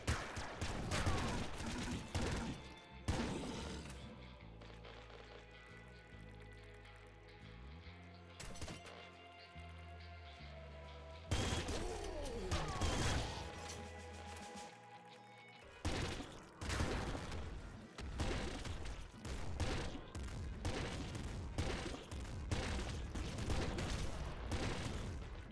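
In the game Nuclear Throne Ultra Mod, weapons keep firing with rapid shots, bursts and explosive booms. The loud volleys stop briefly a few times, and the rest sounds like game effects.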